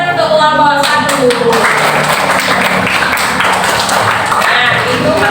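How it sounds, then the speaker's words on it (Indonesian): Classroom applause for a student group, a dense wash of clapping filling the clip at steady loudness, with some voices mixed in. "Beri tepuk tangan untuk kelompok 1"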